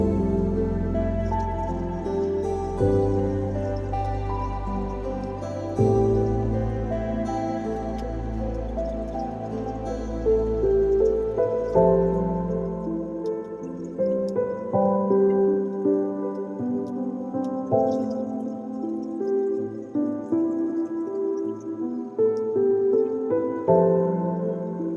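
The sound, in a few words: refilling a planted aquarium with fresh water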